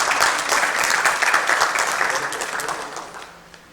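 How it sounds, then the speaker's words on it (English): An audience applauds donors during the concluding remarks and vote of thanks at an event; sustained, full clapping from a crowd that stays strong before thinning out slightly near the end. "Please join me in applauding their immense generosity."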